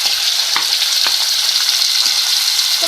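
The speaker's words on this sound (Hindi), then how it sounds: "तो डाल के इसको भी फ्राई करेंगे।" Medium-sized potatoes frying in a pan with browned onions, a loud steady sizzle throughout with a few faint stirring clinks, no talk.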